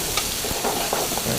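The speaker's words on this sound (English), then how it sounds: "So you'll see we're going to stir them around a bit." Food frying in a pan is stirred around, giving a steady close sizzle with soft scraping strokes and no talk.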